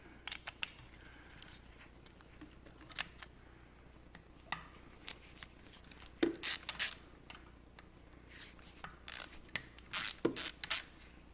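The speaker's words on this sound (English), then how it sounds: "There's a bolt here and a bolt here, hex bolts that need to come out" Ratchet clicks in short bursts while backing out 8 mm hex bolts on a transmission during turbo and clutch removal, quiet and close with pauses between sets of rapid clicking.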